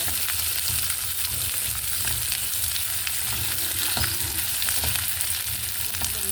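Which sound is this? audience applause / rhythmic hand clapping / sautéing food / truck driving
sautéing food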